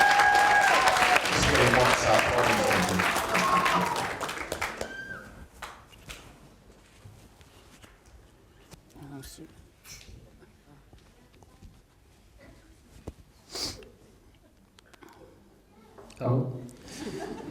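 Wedding guests at a speeches reception applaud the groom, Tom: a loud burst of clapping and cheering for about five seconds that fades out, followed by sparse room noise, small knocks and brief voices.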